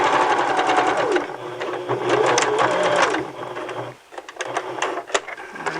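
A sewing machine runs a fast, loud, close rhythmic stitch to the end of the fabric, pauses briefly, then resumes in shorter bursts for a back stitch.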